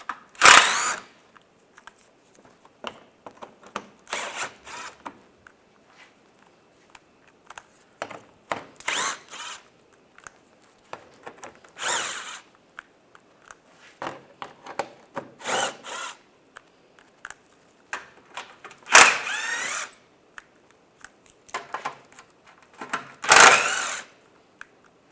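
Power tool fitted with a 10mm socket backs bolts out of the lower shield on a Toyota Corolla during headlight replacement, firing in short loud whirring bursts, about eight spaced across the stretch with quiet handling noises between.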